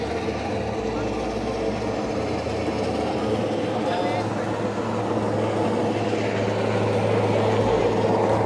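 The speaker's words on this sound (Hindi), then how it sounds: "सामने एक हेलीकॉप्टर देखिए नेवी का हेलीकॉप्टर है जिसके नीचे कुछ लटक रहा है" Indian Navy Sea King helicopter flying over a ship at sea, a continuous rotor and engine drone mixed with wind and sea noise, steady and fairly loud.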